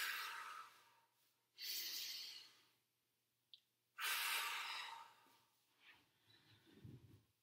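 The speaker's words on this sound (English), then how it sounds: "Deep breaths." Slow, deep breathing during a stretching exercise session: long, airy inhales and exhales alternating with quiet pauses, close to the ear, with a soft low sigh near the end.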